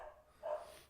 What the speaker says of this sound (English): And that's my dog barking at my cats.